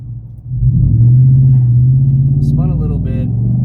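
Ford F150 pickup truck with an OZ Omega tune doing a brake-boost launch, its engine roaring loud and steady as the tires spin, with brief squeaks and a voice near the end.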